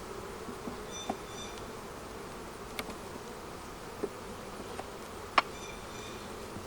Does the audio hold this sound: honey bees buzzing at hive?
yes